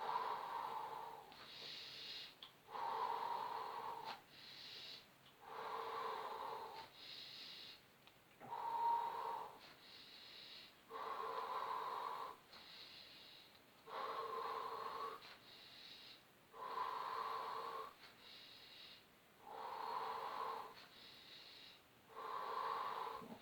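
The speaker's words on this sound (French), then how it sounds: "Inspire et souffle" Slow, deliberate breaths in and out during a shoulder mobility exercise, repeated in steady regular cycles about every two seconds, each breath a soft airy rush, close and clear with no talk over it.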